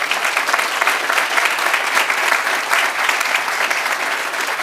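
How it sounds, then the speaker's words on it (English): Steady, dense applause from an audience at a finance park grand opening, loud and continuous throughout. "Can we give Junior Achievement a round of applause"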